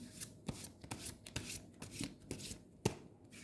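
Tarot cards are shuffled and handled in quick, soft papery riffles and taps, close and fairly quiet, with no talking.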